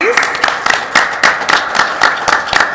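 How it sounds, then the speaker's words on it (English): A small audience at a Bermuda culinary event claps in a regular beat, sharp near hand claps about every quarter second over a low murmur of crowd noise. "Let's give him a hand clap, please."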